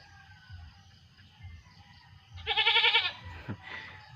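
A goat bleats once in a loud, wavering, nasal call lasting about half a second, followed by a brief shorter sound, with quiet outdoor background noise and no talking.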